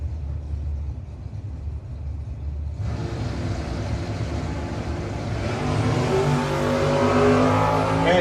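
Drag racing cars, a 1975 Monza and a Firebird, rev at the line and then roar off hard, the engine noise swelling loud and rising in pitch as they accelerate away.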